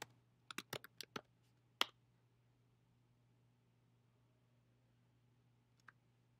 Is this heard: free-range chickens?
no